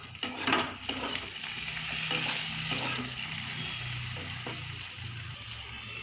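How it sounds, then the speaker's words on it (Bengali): Khir being stirred into fried pointed gourd (potol) with cashews in a pan, a steady soft sizzle with scraping and stirring strokes throughout, close and moderately loud, no talking. "কাজু আর ক্ষীরটা দিয়ে একটু নাড়াচাড়া করে তারপরে জল দিয়ে দেব"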